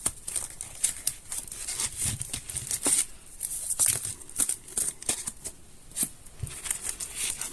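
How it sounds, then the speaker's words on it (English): Tarot cards being shuffled by hand, with a run of close, crisp riffling and slapping bursts in an uneven rhythm that continue throughout at modest volume. "your cards don't want to shuffle"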